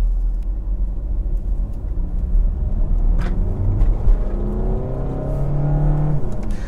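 A 2019 Skoda Kodiaq Laurin and Klement with a TDI diesel engine and 7-speed DSG gearbox accelerating, a deep engine rumble rising in pitch through the gears, heard close from inside the cabin.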